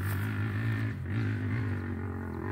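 A motorcycle climbing and descending a distant hill, its engine giving a steady low, droning roar with slight rises in pitch, continuous and fairly loud over a faint outdoor background.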